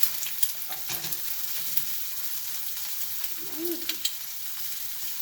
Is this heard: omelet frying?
yes